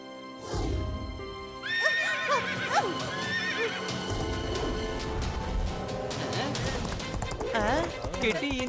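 Cartoon horse whinnying loudly and clip-clopping at a gallop while carrying a rider, hoofbeats pounding throughout with a shrill neigh rising near the start, a voice talking over it.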